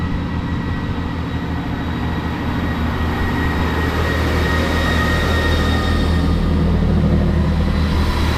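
Train 158845, a diesel multiple unit, pulls away from Longbeck station, a loud steady engine drone and rumble building gradually as it accelerates, heard close by with no speech.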